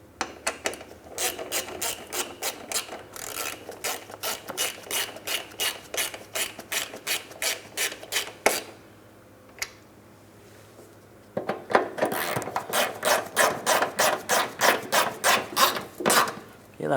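Ratchet tightening splash shield hardware under a Mitsubishi Outlander, a rapid series of close, crisp clicking strokes that pause briefly and then resume in another quick run.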